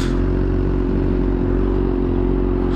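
A Honda Hornet motorcycle engine drones close by with a steady low, rumbling mid-range tone and slight rattle, as if heard from another bike on the road; no speech.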